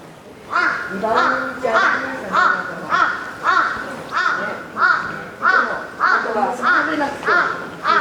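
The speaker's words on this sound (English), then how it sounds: "I can hear that crow really loudly" A crow caws loudly and repeatedly nearby in Japan, about a dozen harsh calls in a steady, evenly spaced rhythm.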